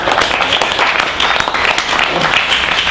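An audience applauds at a live show, loud, dense clapping that carries steadily through the whole moment without a break.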